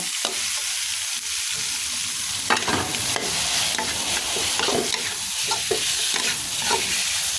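Chicken breast stir-fried in a wok over a low gas flame sizzles with a steady loud hiss, while a spatula scrapes and clatters in irregular strokes close by.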